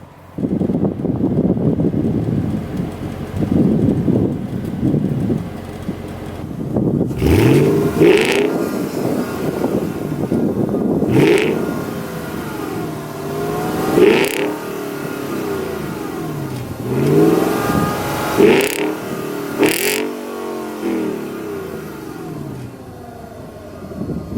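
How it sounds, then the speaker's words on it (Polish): A deep Volkswagen Touareg 4.2 V8 exhaust revs repeatedly from close behind the car, throttle blips rising and falling with crackles between, against a steady idle rumble and some wind buffeting. "Możecie sobie posłuchać, jak pracuje wydech, stojąc z tyłu przy aucie."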